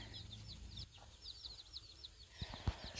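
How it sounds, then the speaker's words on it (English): Chicks peep in rapid, high chirping bursts close by while a hen clucks low and softly beneath them, with a few brief knocks near the end. "here's some of the chicks."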